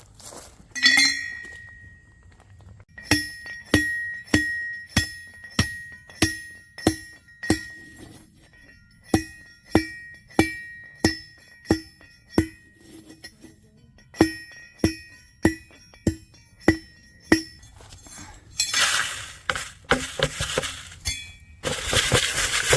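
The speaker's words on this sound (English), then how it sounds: "So we're gonna crush some of it up and see if there's any gold." Ore samples are crushed by hand to look for gold: a long run of sharp, evenly spaced metallic clinks, about one per second and close up, then harsher grinding and scraping near the end, with no talk.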